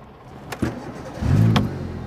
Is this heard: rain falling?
no